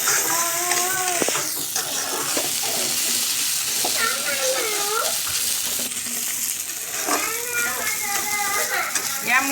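Fried fish cooks in a pan with fermented bamboo shoot, giving a steady close sizzle throughout, with scraping, clattering stirs and some faint speech-like sounds.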